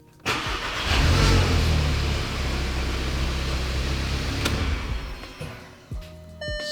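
A Volkswagen GTI with a freshly tuned ECU cranks and fires up, then settles into a loud, steady idle up close, with small clicks near the end.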